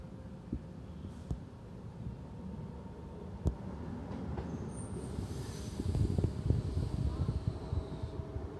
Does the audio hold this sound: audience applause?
no